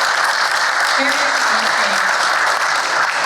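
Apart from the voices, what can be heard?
audience applause at a meeting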